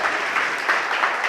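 Brief stretch of even, dense clapping from a church congregation, steady and fairly close with no voices.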